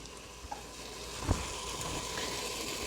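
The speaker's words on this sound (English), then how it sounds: "now I'm going to add the spices, other spices to it" Spices dropped into a hot Instant Pot for veg paneer biryani sizzle steadily, a soft continuous frying hiss with a faint clink of stirring partway through.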